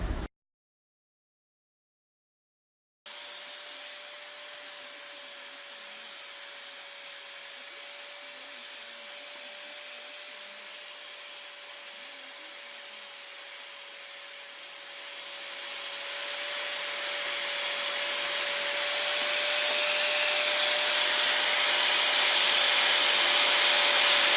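A die grinder polishes a bell metal surface in a Payyanur workshop, starting after a brief silence with a steady high whine and constant abrasive hiss that grows louder and brighter toward the end, with no talk.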